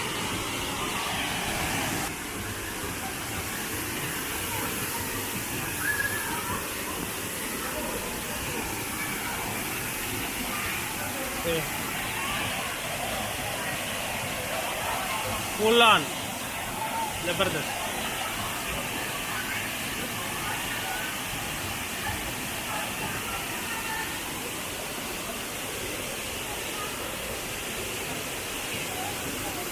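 Savdav waterfall in a Konkan village near Kankavli, swollen with monsoon rain, gives a steady, broad rushing roar throughout, while someone speaks briefly over it.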